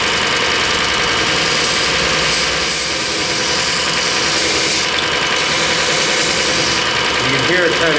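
Belt grinder buffing a damascus steel blade in a workshop, smoothing out rough grind marks; a steady, loud, continuous motor whir with abrasive hiss runs throughout, with brief scraping as the blade catches near the end.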